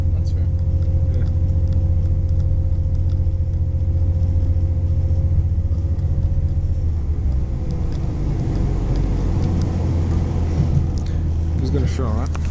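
A train engine on the Waterford to Limerick railway line drones as a constant low rumble from inside the carriage, its pitch shifting slightly as it throttles, with a rising whine near the end.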